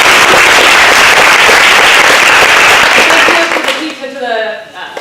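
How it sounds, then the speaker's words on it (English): Loud, dense audience applause roars continuously, then fades quickly near the end as a voice begins to emerge. "So I'd like to give her a big round of applause."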